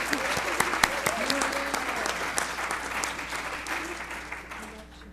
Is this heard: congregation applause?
yes